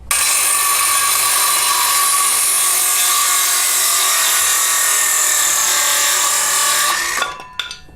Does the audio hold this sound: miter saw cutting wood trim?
yes